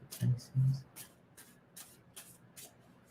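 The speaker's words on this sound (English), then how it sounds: "And so I'm going to stop shuffling." Tarot cards being shuffled in short papery bursts, two stronger riffles near the start followed by lighter repeated flicks, close and fairly quiet.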